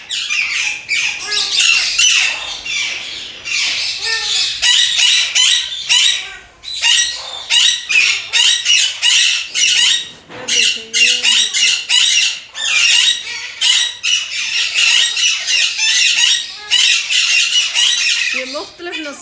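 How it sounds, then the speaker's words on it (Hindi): Room full of hill parrots of various breeds kept by a breeder, a dense nonstop chorus of loud, harsh squawks and screeches close by, with a voice heard faintly beneath. "ये मुख्तलिफ नस्ल के तोते इन्होंने पाले हैं।"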